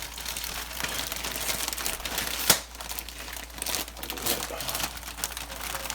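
A plastic bag of spinach crinkles and rustles as the leaves are tipped into a cooking pot, a close, busy crackle with one sharp snap partway through.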